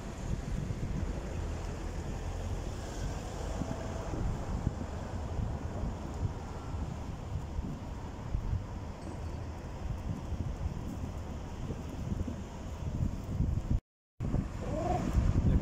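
Wind buffets the microphone beside a harbour dock where construction work is under way, with a continuous broadband rush of sea and lapping waves, steady and fairly loud throughout, briefly cut out near the end.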